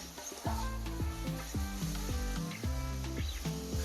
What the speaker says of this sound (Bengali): তেল ছাড়া পর্যন্ত এটাকে ভালো করে নাড়তে হবে।